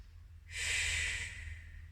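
A single long, heavy exhale of breath during recovery after an arm and shoulder strength workout with weights, broadband and breathy, rising and fading over about a second with no talk.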